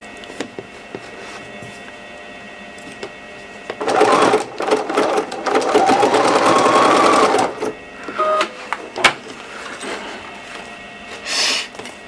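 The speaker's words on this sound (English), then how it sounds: "You also want to make sure that you back stitch at the top as well as the bottom." A sewing machine stitches a fabric seam for a nesting basket, with a few short runs of stitching and then a steadier burst of rapid mechanical chatter lasting several seconds, close and clear, followed by brief clicks.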